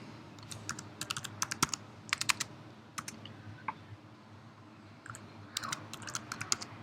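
Typing on a computer keyboard comes in quick bursts of crisp key clicks, close and distinct, separated by short pauses, with no voices.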